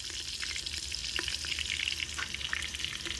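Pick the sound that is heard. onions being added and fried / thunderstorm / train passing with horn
onions being added and fried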